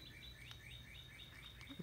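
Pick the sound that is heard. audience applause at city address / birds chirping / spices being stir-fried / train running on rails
birds chirping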